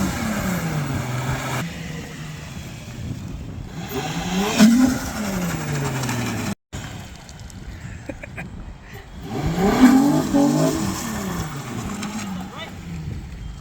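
A K-swapped Honda Civic revs hard during a burnout, with two rising engine surges that climb and fall back. Between them it idles at a rough, loud drone, with voices faintly in the background.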